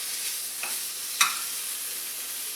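Bacon and steak sizzling in a pan for a steak Caesar wrap, a dense, even hiss of frying fat with one sharp pop or utensil tap near the middle.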